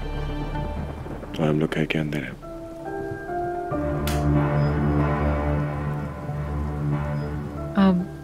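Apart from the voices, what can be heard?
rain falling outside the house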